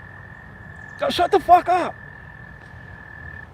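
A brief burst of loud croaks from pet frogs, about four quick calls in a row, set against a steady electronic hum in an otherwise quiet room.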